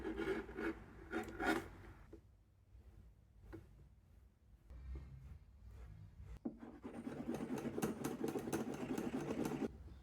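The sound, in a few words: grinding and beveling a leather bag edge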